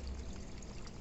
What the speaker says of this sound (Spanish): con el ruido de la cascada del estanque de fondo